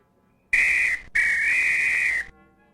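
A whistle blown in the adventure game Return to Zork gives two steady, bright tones: a short toot followed after a brief gap by a longer sustained blast, loud and close with no voices.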